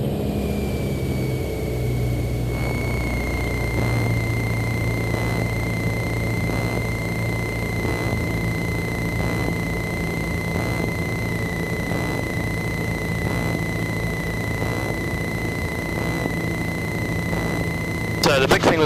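A light propeller aircraft drones steadily on a landing approach, a close, constant engine hum with a sustained whine above it, while an instructor and student talk over the cabin noise.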